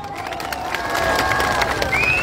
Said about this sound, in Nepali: ताली बजाउनै पर्छ